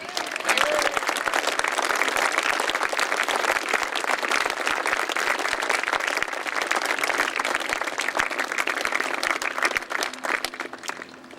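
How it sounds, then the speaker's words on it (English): Long, enthusiastic applause from an audience at a memorial gathering, dense sustained clapping that holds steady for about ten seconds before thinning out. "Can we give Robin now a really, really tumultuous applause?"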